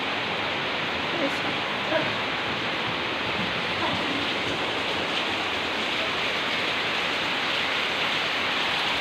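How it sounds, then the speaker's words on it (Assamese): Heavy rain pouring down outdoors as a dense, steady roar of broadband hiss, constant and loud throughout, with faint voices beneath it. "চাওক বহুত বৰষুণ"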